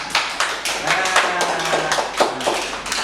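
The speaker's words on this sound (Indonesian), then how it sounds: "tepuk tangan untuk kelompok cakap" Students in a classroom clap for a group of classmates, a scattered, uneven round of hand claps with a few sharper taps standing out, mixed with faint background chatter.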